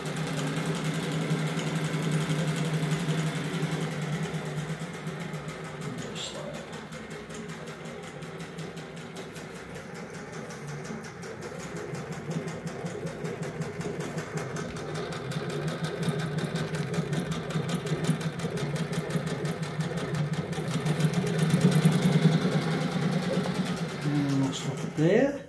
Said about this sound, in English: You can go fairly slow on the machine if you want. Or you can go really fast.